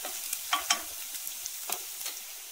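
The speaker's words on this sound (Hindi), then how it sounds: "चॉप अनियन डालेंगे, हल्का से इसको चमचा चलाएंगे।" Chopped onion sizzles softly in two tablespoons of hot oil for pizza sauce while a spoon stirs it, with a faint crackle and a few scraping strokes against the pan.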